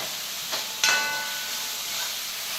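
Onions sautéing in a pan for a spicy kootu curry give a steady close sizzling hiss, with a brief stir-like scrape and a sharper burst of crackle near the start.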